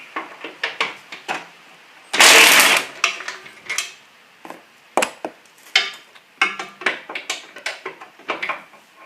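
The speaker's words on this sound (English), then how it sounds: "So I'm going to take this bracket off here." A bracket is taken off a Suburban Sears GT19.9 garden tractor during transmission removal, with a close series of sharp metallic clicks and ratcheting taps and one louder, longer scraping burst of metal in the middle.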